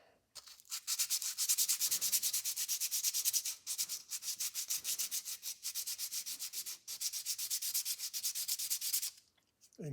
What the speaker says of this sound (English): You can usually just sand them out with a little 320